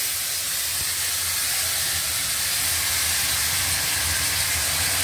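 Soaked tamarind dropped into a hot oil tempering with dried red chillies for Indian-style tamarind pickle, giving a loud, continuous steamy hiss and sizzle that stays strong and steady throughout.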